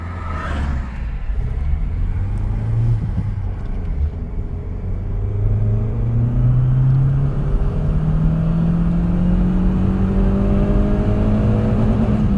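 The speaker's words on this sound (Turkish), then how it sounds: "İkinci vites 90-100 arası yapıyor" A Renault Megane 2 accelerating hard in second gear, the engine note climbing steadily in pitch as revs build, heard from inside the car with a loud, continuous drone and no talk.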